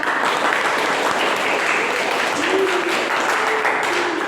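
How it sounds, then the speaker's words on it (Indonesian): Loud, continuous clapping from a class group fills the room, dense and steady throughout, with faint background voices mixed in. "Tepuk tangan buat kelompok 3."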